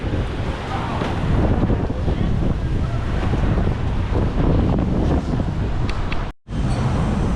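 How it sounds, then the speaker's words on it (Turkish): Strong wind in Manila buffets the microphone in a loud, continuous rumbling roar, broken by a brief sudden dropout near the end. "İnanılmaz bir rüzgar var."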